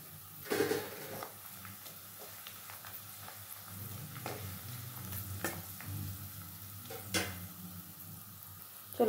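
Onions and whole spices, including cardamom and two cloves, frying in a pan over low gas while being stirred; a steady close sizzle with scraping stir strokes and occasional sharper clinks against the pan.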